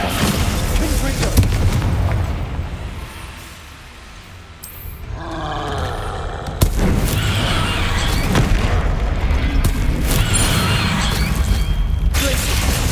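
The Confringo fire spell exploding in the Hogwarts Legacy video game, loud booming blasts and roaring rumble filling a dense, continuous battle soundscape, with a sharp impact hitting partway through.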